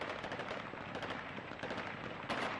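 Celebratory gunfire by Taliban fighters in Kabul: dense, continuous bursts of rapid shots crackle and rattle without pause, harsh and fairly distant, with no speech.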